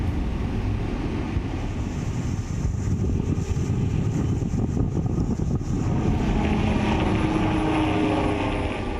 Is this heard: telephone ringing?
no